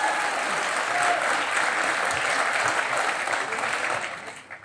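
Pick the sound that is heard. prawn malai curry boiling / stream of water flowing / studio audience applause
studio audience applause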